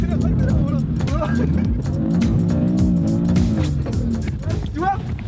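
A car engine revs hard and accelerates while drifting, with a steady loud roar and rising pitch throughout, and people talk over it from inside the car.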